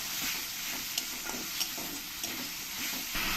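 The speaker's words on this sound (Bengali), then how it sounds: "এর মধ্যে দিয়ে দেবো এক চামচ লবণ আর খুব সামান্য একটু হলুদ দিয়ে দেবো দিয়ে ভালো করে মিশিয়ে নেবো" Parwal (pointed gourd) is stirred with salt and turmeric in a pan, giving a soft, steady sizzle with light scraping clicks from the spoon, fairly quiet and with no speech.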